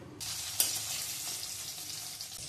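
Sliced bitter gourd hits hot oil in a pan, and a sudden loud hiss starts almost at once and holds as a steady, close sizzle, with one sharp clink early on.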